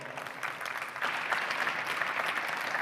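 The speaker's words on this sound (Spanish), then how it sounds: "Os pido un aplauso para él, por favor." An audience at a conference on strategic industrial policy governance applauds a speaker, a steady, even wash of many hands clapping with no talking.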